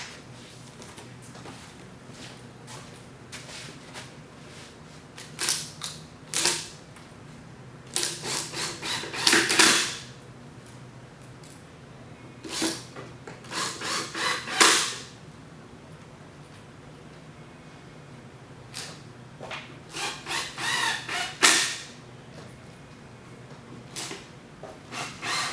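Screws are driven into the wooden sides of a bookcase during assembly, giving irregular clusters of short clicking, ratcheting and tapping bursts with quiet gaps between them, close by.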